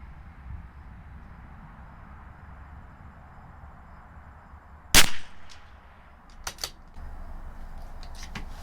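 A CZ 457 LRP rifle fires Eley Tenex ammunition at a 100-yard range: one sharp, loud crack stands out against a steady low background hum, followed by a few faint clicks.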